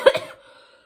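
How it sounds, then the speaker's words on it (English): A single chesty cough bursts out close up, followed by a second weaker rasp, then fades into a faint breathy tail. "you guys got an ASMR chesty cough?"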